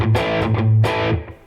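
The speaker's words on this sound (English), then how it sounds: "it's a bit platey, but this is a more like, I guess, a hall type reverb" Distorted electric guitar played through an amp simulator, modelled on a Neural DSP Tone King Imperial MKII, with hall reverb: a few loud strummed chords ringing out alone, then a reverb tail that decays and fades.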